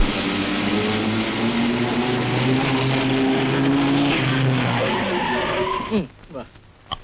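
A vehicle engine drones loud and steady with a rising and wavering tone, then cuts off abruptly near the end, with voices talking over it.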